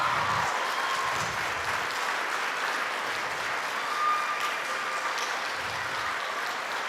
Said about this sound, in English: let's just give a really warm welcome, round of applause